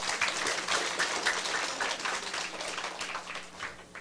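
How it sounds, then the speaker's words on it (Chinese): An audience at a political closing ceremony claps together, a soft, steady patter of many hands heard from a distance that gradually fades. "家己鼓掌一下，"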